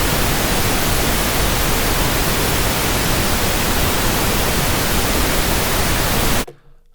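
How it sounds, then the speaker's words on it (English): Pink noise test signal played as uncompressed PCM, a loud, steady, full-band hiss holding at constant level for over six seconds before stopping abruptly. "So this test with pink noise was required to actually see how those codecs deal with high intensity sound"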